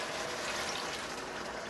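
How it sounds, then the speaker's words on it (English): Water pours steadily into a pressure cooker holding potato, eggplant and tofu curry, a continuous close splashing rush with no talk. "And then we're going to add a little bit more water."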